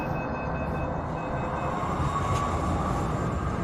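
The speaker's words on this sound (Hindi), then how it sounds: "इस बीच मेट्रो चल दी" Metro train starting to move, a soft steady rumble of rolling stock with a faint rising whine, heard at a distance and quite quiet throughout.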